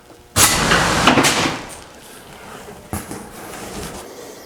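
An HVAC blower fan in a garage is fired up: a sudden loud rushing roar with rattling bursts out, then sinks to a lower whir, and a second sharp knock breaks in near the end. No one speaks.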